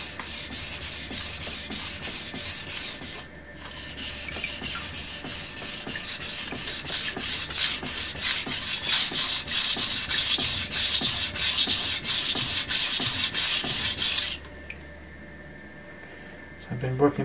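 Knife sharpened on a Suehiro Debado whetstone, a close rhythmic scraping of blade on stone in repeated back-and-forth strokes that stops near the end.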